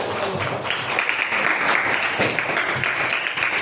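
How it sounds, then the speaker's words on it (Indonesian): A high school class applauds together in a classroom, a steady wash of clapping from many students, fairly close and continuous. "Boleh tepuk tangan untuk semuanya."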